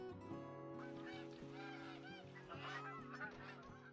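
Canada geese honking in the hunting game theHunter: Call of the Wild, a rapid overlapping series of nasal honks from several birds, fairly quiet, over a sustained tonal background hum.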